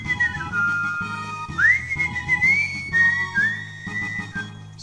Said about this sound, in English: Surprised I got the whistle that high on first try.